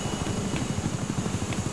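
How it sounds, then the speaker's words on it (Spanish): A military helicopter in BattleBit Remastered thumps with rapid, even rotor beats over a loud engine whine, close and continuous, with no talk. "voy agarrado de una cuerda del helicóptero"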